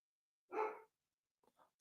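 A dog barks once, picked up faintly through a remote call microphone, followed by a couple of softer short yips, with silence around them.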